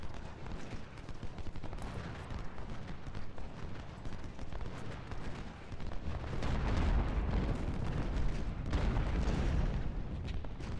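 Musket volley and battle din from the Civil War strategy game Ultimate General: Civil War, a dense rumbling roar of gunfire that swells louder in the second half, with no talk over it.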